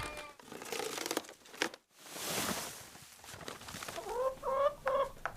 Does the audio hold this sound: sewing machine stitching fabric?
no